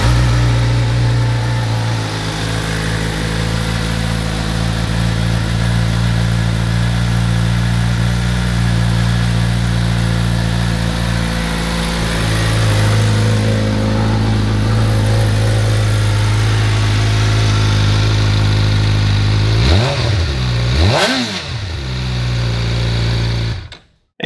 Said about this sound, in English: let's go ahead and fire it up and listen how she sounds